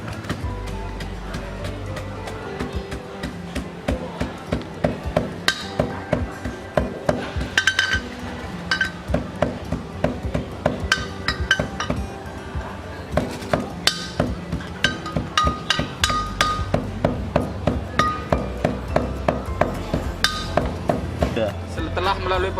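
Carbon is pounded by hand to separate fine from coarse pieces, producing a long run of sharp, repeated thuds and knocks at a fairly regular rhythm, close and moderately loud throughout.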